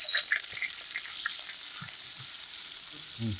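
Thinly sliced onion frying in hot coconut oil with curry leaves, a steady crackling sizzle with occasional stirring scrapes, close and moderately loud, with no talking.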